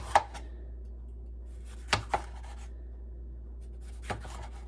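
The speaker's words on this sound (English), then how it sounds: "And cut these in half, nice little rings." A knife cuts vegetables into rings on a board, making a few faint, isolated chopping thuds spaced a second or two apart in a quiet room.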